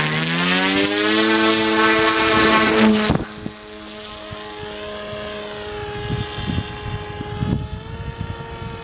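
A hand-launched Peace Drone's electric motor and propeller whine loudly and steadily in flight, the pitch dropping sharply partway through and then wavering at a lower throttle with some rough buffeting.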